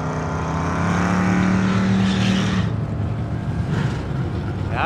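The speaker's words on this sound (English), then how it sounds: "They were made for drag racing, and you're seeing them on a drag strip." A drag racing streetcar at a drag strip, a loud, close engine roar that holds steady and then fades off, with no talking.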